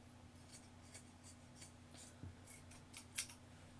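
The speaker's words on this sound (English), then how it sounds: "Fabric scissors, I'm basically going to trim around where I've sewn." Fabric scissors snip repeatedly around sewn fabric, quiet rhythmic cuts about every half second over a faint electrical hum, with no one talking.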